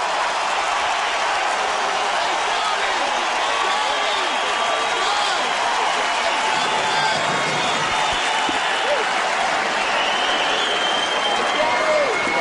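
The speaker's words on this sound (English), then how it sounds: "But let's just listen to the crowd." Crowd at a 2006 Australian Open second-round tennis match, Agassi vs Baghdatis, late in a long fifth set: a continuous roar of cheering and applause from the stands, dense and unbroken with a faint voice beneath.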